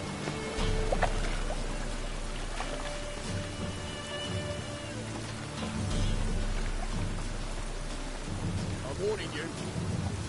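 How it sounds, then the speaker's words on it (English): Rain in a PS4 video game, a steady wash of falling rain with low rumbles of thunder, continuous and moderately loud. "Rain, I like rain."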